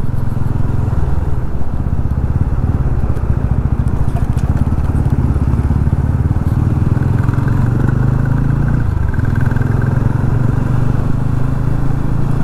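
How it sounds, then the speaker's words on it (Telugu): Steady, loud road traffic with a dense rumble of engines that sounds like motorcycles streaming past on a busy road. The drone runs without a break under faint background voices. "పొద్దున బైక్లు అయితే తగలుతున్నాయి అనుకో, మరి ఇటు వెళ్తున్నారు"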